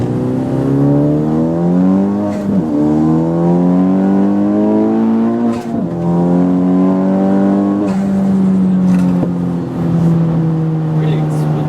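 Honda Civic Type R with a boost leak just fixed, engine climbing hard through the revs in the cabin, strong rising harmonic whine broken by quick upshifts, loud and continuous with people talking over it.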